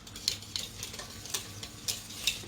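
Chocolate yogurt cake batter stirred in a bowl, giving a series of soft, regularly spaced scraping strokes, quiet and close, with no talking.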